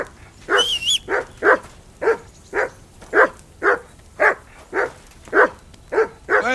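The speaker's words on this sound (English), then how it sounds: "Hey, call off that dog and then we can talk." Dog barking repeatedly in a medieval village scene from Kingdom Come Deliverance 2, a steady series of about a dozen loud, evenly spaced barks close by with no talking.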